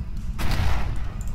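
A loud, close burst of rocket fire from a naval warship battle video game, a rapid rumbling volley lasting just over a second.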